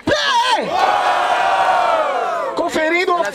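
A crowd at a rap battle roars and shouts together in a loud, sustained cheer that dips briefly and then surges again with whoops.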